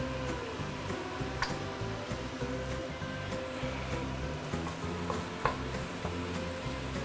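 Oil sizzles steadily in a pan as fish head curry fries, a continuous crackling hiss with small ticks and pops scattered throughout, close and fairly loud with no talking.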